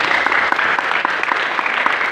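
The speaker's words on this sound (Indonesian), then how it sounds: "Tepuk tangan dulu buat Tuhan." Children at a church gathering clap together, a dense, steady patter of many small hands close by that fills the whole short stretch without a break.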